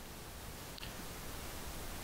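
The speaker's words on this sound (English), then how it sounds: "Here's a pink noise sound" Steady pink noise test signal plays as a dense, even hiss spread across the whole range, continuous and unchanging with one tiny click partway through.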